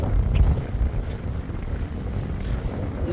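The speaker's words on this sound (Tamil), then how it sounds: "ஆனால் பயங்கர காத்தடிக்குது" Strong wind buffets the microphone beside a pink salt lake in Oman, a loud, steady low roar with gusty swells and no speech.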